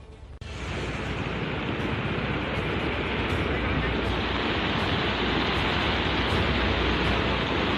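Floodwater rushes loudly through the Dhangarhi drain near Ramnagar, Uttarakhand, a dense steady roar that swells in abruptly and holds at full strength, with a car stuck in the rising water.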